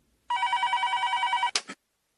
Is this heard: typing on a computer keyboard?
no